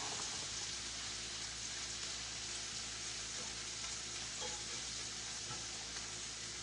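Shrimp fry in a skillet with a constant, even sizzle and crackle, close and steady throughout.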